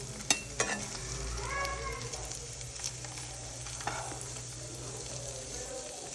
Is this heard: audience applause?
no